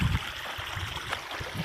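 Water trickles steadily over a small rock-piled waterfall in a handmade artificial creek flowing out from under tree roots, a soft continuous babble up close with no voices.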